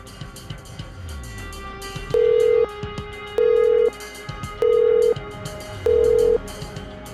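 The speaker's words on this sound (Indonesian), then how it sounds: "Telepon gue nggak diangkat" A telephone call goes unanswered: a quick burst of dialing tones, then four evenly spaced ringback tones, each about half a second long, repeating over a faint background.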